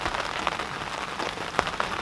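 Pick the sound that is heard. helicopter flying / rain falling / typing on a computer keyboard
rain falling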